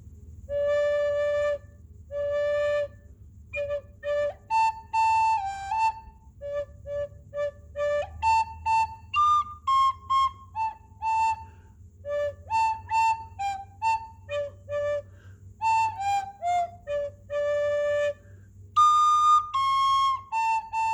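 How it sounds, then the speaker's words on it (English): A breathy wind instrument plays a slow melody in short phrases, dipping to low notes and sliding between pitches, with gaps between each note. "Low note's hard to hit, and you got a better flute than this"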